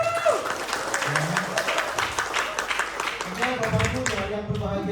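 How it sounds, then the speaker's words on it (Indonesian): Audience applause at a gathering in Karawang, steady clapping from a crowd running throughout and mixed with people talking over it. "Beri aplaus buat Bapak Ibu semua."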